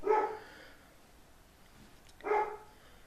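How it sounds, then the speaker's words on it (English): A dog barks twice indoors, with each short, fairly quiet bark spaced about two seconds apart over a low, hushed background. "it doesn't make sense for a dog to be barking in a school scene."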